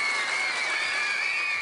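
A small group in a radio studio cheers and applauds a visiting schoolgirl, sustained bright voices holding over a fairly steady wash of clapping.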